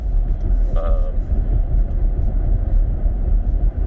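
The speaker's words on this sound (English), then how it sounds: "Get some noise from the road itself, but not a lot of wind noise." Steady, heavy low-pitched road rumble fills the cabin of a 2021 Kia Telluride with fairly big wheels, cruising at about 50, with little wind hiss and a brief faint tonal blip early on.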